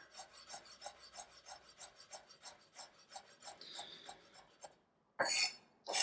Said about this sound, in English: As finely as you can possibly chop the parsley.